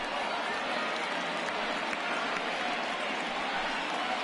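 A large baseball stadium crowd in the MLB The Show video game rises and cheers, a dense, steady wash of roaring noise that holds at full level throughout, with no talking.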